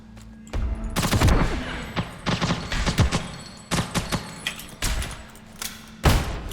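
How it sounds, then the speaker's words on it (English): Tap-fired gunshots in the online shooter Ghost in the Shell: First Assault: a string of sharp, separate cracks in quick bursts and single shots, loud and close, each ending with a short thud. "What you're supposed to do is just kind of tap fire it"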